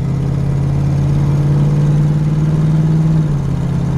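A recently restored 1973 Camaro's engine runs steadily nearby, a loud low hum with a slight rise in revs partway through before easing back.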